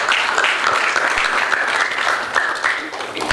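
A church congregation clapping hands during a Sunday sermon, loud sustained group clapping with a brisk even rhythm, close and filling the room, with faint voices underneath.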